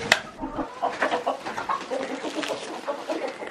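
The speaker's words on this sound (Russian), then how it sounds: "Клювачий петух." Rooster and hens at a home farmyard in the morning, giving a run of short, close clucks and squawks in an irregular rhythm, with one sharper call at the start.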